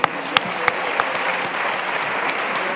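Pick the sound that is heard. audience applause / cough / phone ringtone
audience applause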